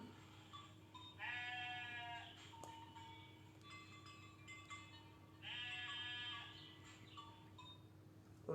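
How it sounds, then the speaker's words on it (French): Sheep bleating in a pasture: two long, wavering bleats a few seconds apart, moderately close and clear over a steady low background hum, with a few fainter calls in between. "On entend les moutons."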